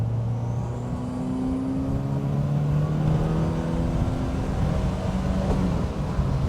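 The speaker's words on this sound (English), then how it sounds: "This one, it just keeps on tearing through the rev range right up until the red line" A BMW 2002 Turbo engine pulls steadily up through its rev range toward the redline, a loud and continuous rising engine note heard from close by with no talk over it.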